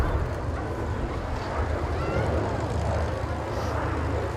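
Avro Vulcan bomber flying overhead, a steady broad engine roar that fills the whole clip, loud and continuous with wind buffeting on the microphone.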